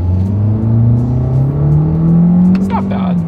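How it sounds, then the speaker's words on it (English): A 2025 Toyota Corolla Hatchback with a CVT accelerates from inside the cabin, its engine drone climbing steadily in pitch as it gathers speed, loud and close, with a voice briefly speaking near the end. "we can get our new Corolla Hatch here up to speed"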